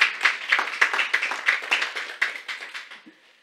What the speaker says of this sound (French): on peut applaudir les vivants